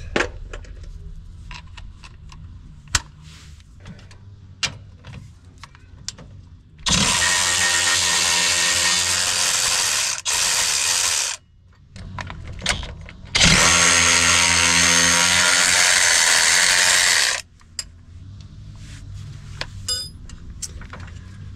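A pneumatic impact wrench hammers bolts out of a twisted, mangled trailing arm on a RZR side-by-side, two loud sustained bursts of several seconds each with rattling clicks and handling noise between.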